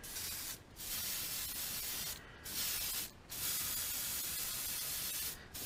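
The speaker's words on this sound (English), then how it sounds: "And we'll just kind of spray a little bit." Airbrush spray hissing in steady bursts with brief pauses, used while painting a custom bluegill-pattern crankbait fishing lure, close and fairly quiet with no talk.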